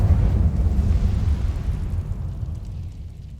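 The Incendio fire spell is cast in the video game Hogwarts Legacy, giving a loud, deep rumbling whoosh of flame that stays strong and then slowly fades over a few seconds, with no voices.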